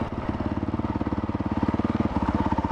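A Honda CRF450L light adventure motorcycle fitted with a Rekluse Radius CX auto clutch pulls away, its single-cylinder engine thumping in a fast, even pulse close by and loud, rising slightly in pace, no voices.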